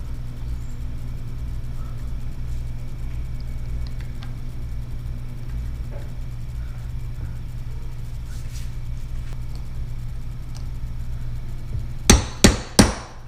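Three sharp metallic taps drive a new seal into the lower unit of an 18, 20 or 25 hp Johnson Evinrude outboard with a socket, coming near the end after a steady low hum with faint clicks.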